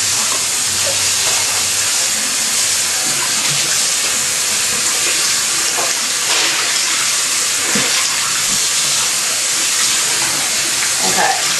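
Hot water runs steadily from a tap into a bathtub, rinsing cloth diapers with a constant loud splashing hiss and faint clatter within the stream.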